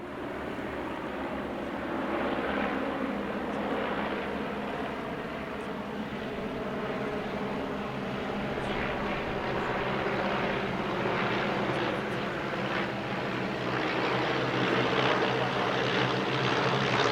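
A vintage propeller biplane with Tiger Moth wings and a fuselage resembling the DH-60 Moth flies at an airshow, its steady engine drone and propeller hum sustained and moderately loud throughout, with no voices.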